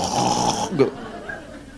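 A person's voice imitates a single short snore, a brief throaty snort following a stretch of speech, then quiet.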